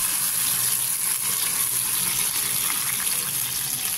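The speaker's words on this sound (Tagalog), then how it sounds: "At ilagay natin ang tubig." Water pours into a pan of simmering milkfish (bangus) belly, a continuous close rushing and bubbling wash that holds steady and loud throughout with no talking.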